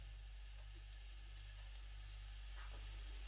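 Chopped onions dropped into hot oil for a tawa beef liver kaleji dish, producing a steady broad sizzle with faint crackles over a constant low hum, fairly quiet and unbroken.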